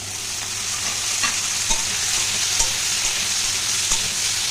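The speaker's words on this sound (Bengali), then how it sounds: "ঢ্যাঁড়সটা একটু ভেজে নেবো, এর মধ্যেই দিয়ে দেবো টমেটোটা, একসাথে সব ভেজে নেবো।" Okra frying in a pan at home with some onion, a steady close sizzle with occasional soft stirring scrapes and no talking.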